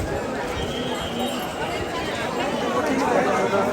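Crowd chatter at the Balumama temple in Adampur, a dense steady babble of many voices close around with the bustle of people moving, continuous and fairly loud throughout.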